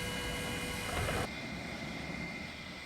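Aircraft engine in a flight simulator game, a steady broadband droning hum that shifts abruptly to a slightly quieter, smoother tone partway through, with no voices.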